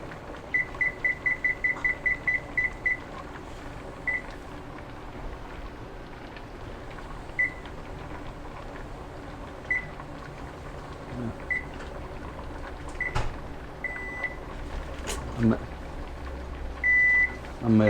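A digital kitchen timer beeps during pressure canning of squash and zucchini: a quick run of about ten button beeps, then scattered single beeps as it is reset, over a low hiss of the canner and a speaking voice.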